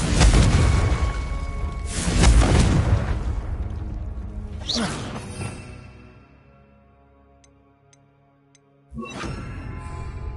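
A Confringo blasting spell in Hogwarts Legacy bursts with a loud booming explosion and whoosh, followed by a second blast that fades into a long rumbling decay before another impact hits near the end.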